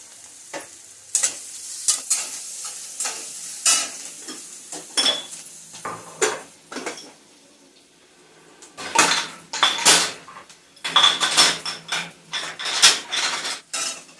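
Garlic and onion sautéing in a pan while a spatula stirs, with repeated sharp scrapes and clinks of utensil on metal coming in bursts between quieter stretches of soft sizzling, close and clear.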